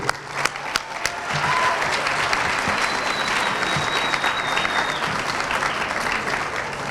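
At a black-tie gala benefit, an audience gives a round of applause for a crew. A few sharp early claps swell into a loud, sustained roar of many hands that holds steady for several seconds.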